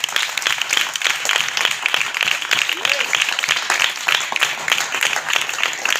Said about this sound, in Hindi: मैं अपने खुदा के लिए जोरदार तालियां।